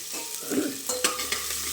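Chopped onions fry in a pan for pulao: a short burst of bright sizzling with a stirring scrape, close and fairly loud, no talking.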